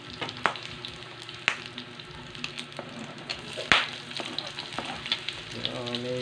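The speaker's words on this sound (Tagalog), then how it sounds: "So gigisa naman natin yung ano, yung sibuyas tsaka bawang." Onion and garlic sauté in rendered pork fat for pork adobo, a busy close sizzle with frequent sharp spatters and occasional stirring scrapes, no talking.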